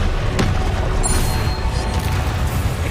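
Confringo fire spell blasting in Hogwarts Legacy, a booming explosive crash with crackling debris over a dense rumbling game soundscape, loud and near.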